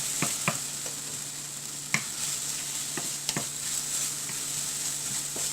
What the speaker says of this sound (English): Put the green chili.